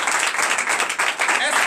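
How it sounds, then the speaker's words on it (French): A church congregation at a night deliverance and prophecy service applauds and acclaims Jesus, with dense, steady clapping mixed with raised voices and cheers, loud and continuous throughout. "Si c'est vrai, donnez l'acclamation à Jésus."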